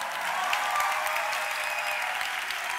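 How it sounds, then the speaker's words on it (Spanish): A television studio audience applauds in a dense, continuous wash of clapping that holds at an even, moderate level from start to finish, with no voices over it. "pero que dure un poco el aplauso."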